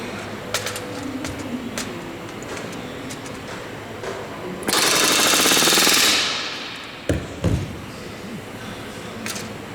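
A rivet gun hammers a rivet into the aircraft skin of Avro Lancaster NX611 during restoration: one loud, rapid, continuous burst of about a second and a half, followed by a couple of sharp knocks.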